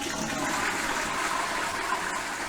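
A toilet flushes in a holiday park chalet at Pontins Prestatyn, a steady, loud, close rushing of water filling the whole moment with no speech over it.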